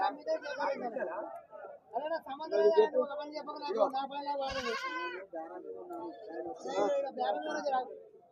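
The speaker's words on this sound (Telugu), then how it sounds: "నల్ల మేకపోతులు ఫ్రెండ్స్. పోతులు మాత్రం మంచిగా ఉన్నాయి." Black male goats bleat repeatedly up close, their wavering cries mixed with people chatting nearby at a weekly livestock market.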